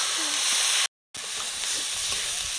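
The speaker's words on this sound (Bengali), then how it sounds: "মশলার মধ্যে একটু জল দিয়ে ভালো করে মশলাটা কষে নেব।" Tomato, turmeric, chili powder and salt spice paste with a splash of water sizzles in a pan, a steady loud hiss that cuts out completely for a moment and then resumes.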